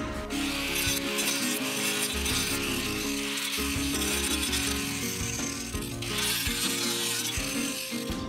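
An angle grinder fitted with a wood cutting and shaping disc bites into a piece of very hard dry ash, giving a loud, continuous rasping and grinding with a fluctuating pitch and no speech.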